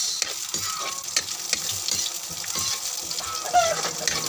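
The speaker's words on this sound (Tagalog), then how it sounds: "So, medyo mag-brown-brown na yung bawang ng konti, ibutang na natin yung sibuyas." Garlic and onion sautéing in a pan for homemade ginataang gulay, a close, steady sizzle with a few spatula scrapes and clinks on top and no talking.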